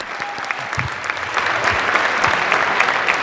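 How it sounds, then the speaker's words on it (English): Audience applause for a school jazz band at a winter concert, steady dense clapping that swells slightly partway through and holds at full strength. "give a round of applause"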